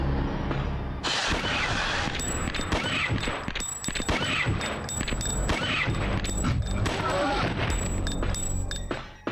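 Repeated gunshots from the 1999 survival horror game Dino Crisis, fired in a steady series of loud bangs over game music and ambient effects.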